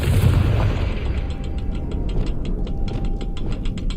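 Confringo fire spell bursting in Hogwarts Legacy, a loud booming explosion at the start that decays into a crackling tail, followed by a train of light rhythmic ticking pops.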